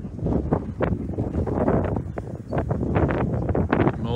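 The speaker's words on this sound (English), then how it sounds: "Just a lot of high winds from the storm." Strong storm wind gusts roar against the microphone in uneven, buffeting bursts. The rumbling is loud and continuous with no voices heard.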